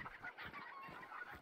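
Chickens clucking in the video game Hunt Showdown, a brief, faint run of rhythmic clucks heard alone.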